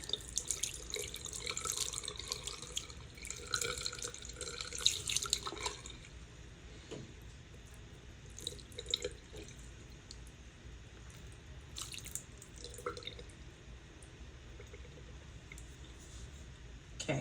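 Water is poured over 10mm nylon curly doll hair on a styling stand, giving a splashy trickle and dripping that is strongest early on and then fades to scattered faint drips.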